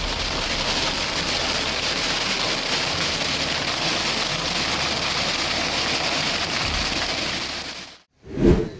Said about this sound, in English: an impressive hailstorm unexpectedly hit Romans-sur-Isère, with golf ball-sized hailstones blanketing the streets